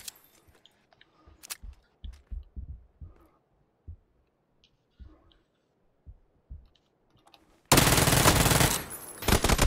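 Gunfire in the PUBG video game, scattered sharp shots and clicks spaced irregularly through quiet stretches, then a loud sustained blast of noise at the end.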